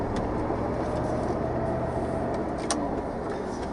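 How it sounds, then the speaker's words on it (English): A car drives on a road, heard as a steady broadband rumble of engine and tyre noise from inside a moving vehicle, with a brief faint click partway through. "That car I was just slowing down for"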